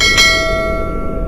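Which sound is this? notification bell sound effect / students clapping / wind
notification bell sound effect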